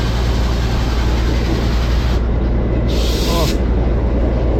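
The Darjeeling toy train rolls out of Siliguri Junction with a steady, loud low rumble of wheels and running gear, continuous and close, and a brief higher squeal partway through.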